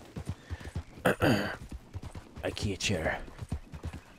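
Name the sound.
horse hooves clip-clop while riding, Red Dead Redemption 2 video game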